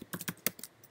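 A quick run of keystrokes on a computer keyboard, about half a dozen light, close taps in under a second.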